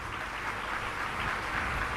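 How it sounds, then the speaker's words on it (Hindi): A crowd claps steadily at a religious discourse gathering in honour of Lions Club members, a continuous, even wash of applause with no clear pauses. "लॉयंस क्लब के सब लोगों के काजे एक बार ताली बजाओ"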